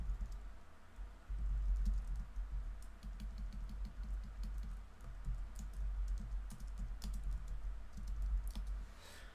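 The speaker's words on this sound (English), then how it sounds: "I was kind of just distracting myself by typing." Rapid, steady typing on a computer keyboard during a GeoGuessr online game session, a close, continuous patter of key clicks with no talking.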